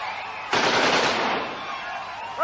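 A single dense burst of machine-gun fire, bullets flying, erupts suddenly and holds loud for about a second before fading back into a quieter murmur.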